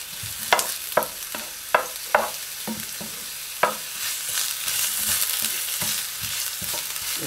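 Ginger sautéing in a pan gives a soft, steady sizzle, broken by several sharp clacks of a utensil against the pan that come close together early on.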